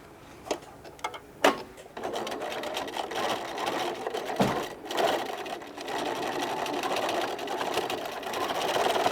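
A sewing machine stitching the seam of a fabric popcorn bag. A few sharp clicks come first, then a steady, fairly quiet mechanical whirring runs for several seconds with a brief pause midway and no talk.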